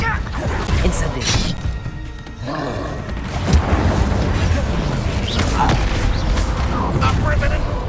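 An Incendio fire spell cast in Hogwarts Legacy, part of a dense, roaring burst of game combat with heavy booms and crashes that runs without a break under loud action.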